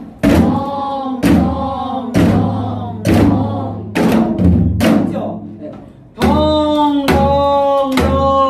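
A Korean janggu drum plays a gutgeori variant rhythm in regular groups of strong, close strikes, each ringing out with a vocal tone blended over the hits.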